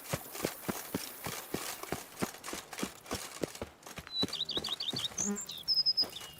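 A horse in The Witcher 3 video game gallops with steady, evenly spaced hoofbeats close by, then birds chirp in quick bursts as the hoofbeats fade.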